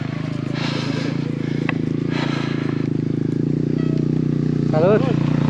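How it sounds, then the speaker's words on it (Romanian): A motorcycle runs on a mountain trail near Vârful Albina during an e-MTB ride, giving a steady, fairly close engine drone while people talk over it. "Ai motocicletă, bă."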